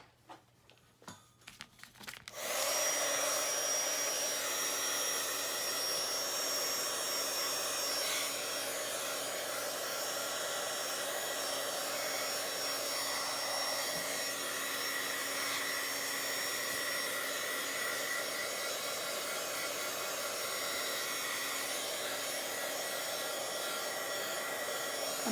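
A hair dryer blows steadily up close to dry paint on a journal page, a loud constant whoosh that starts after a couple of seconds of faint handling noise and runs unbroken to the end.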